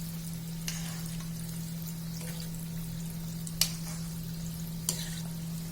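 Khoya gulab jamuns frying gently while a spoon stirs them, a soft low sizzle under a steady hum, with a few light spoon clinks and no talking.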